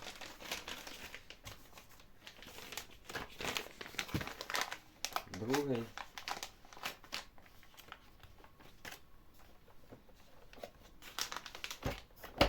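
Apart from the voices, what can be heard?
plastic vacuum bags being handled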